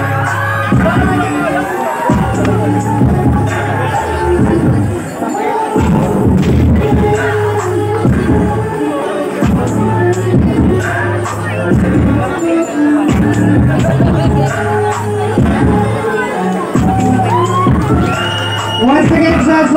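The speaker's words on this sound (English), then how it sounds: "give a round of applause for President Number 4, Ms. Catriona" Audience cheering, shouting and applause at a beauty pageant evening gown segment, a loud continuous crowd roar with whoops throughout, mixed with music and voices.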